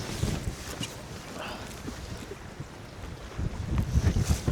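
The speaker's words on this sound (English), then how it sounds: "really windy" Strong wind buffets the microphone while fishing from a boat on a heavy-wind day in Canada, gusting in rumbling low surges that swell louder toward the end.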